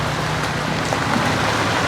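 Rain falls steadily on an old-style traditional wooden house, a dense, even hiss that holds without a break and with no voices.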